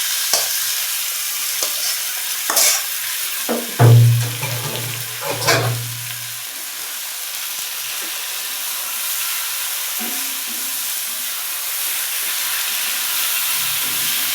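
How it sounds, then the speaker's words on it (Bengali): Red amaranth greens with onion fry in a small pot, with a few scraping stirs near the start giving way to a steady, close, unbroken sizzle and hiss. "এই যে এখন হচ্ছে শাকটা বাগার দিয়ে দিব"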